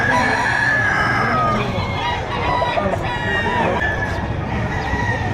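Roosters crow over a dense, noisy crowd at a livestock auction market, with several long calls rising above constant chatter and bird noise.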